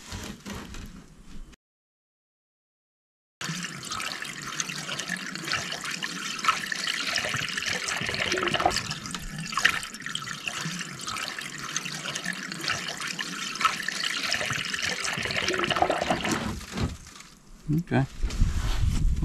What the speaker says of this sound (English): get some water in this thing.